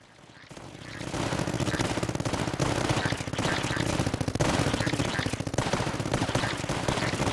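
Rapid machine gun fire from defensive units in the tower defense game Tower Dominion, a dense continuous rattle of bursts that swells in after a quieter start and stays loud throughout.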